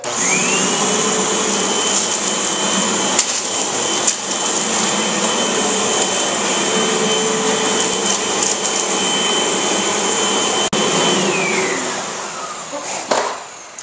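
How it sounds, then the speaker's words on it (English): A loud Eureka AirSpeed vacuum cleaner drones continuously with a high whine while cleaning a floor, with a few knocks and bumps, then the motor powers down at the end. "And then, when you're ready to vacuum, you just hit the red button."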